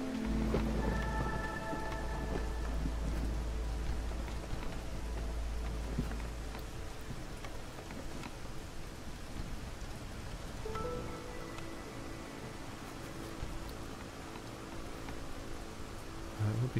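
Storm weather in the video game Against the Storm: steady heavy rain pours throughout while deep thunder rumbles, strongest early on and again near the end, with no talk.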